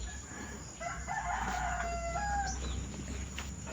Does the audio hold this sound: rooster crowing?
yes